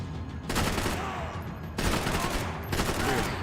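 Gunfire in the video game Max Payne 3, two dense bursts of rapid shots and a third starting, loud and close, with a short quieter gap between them.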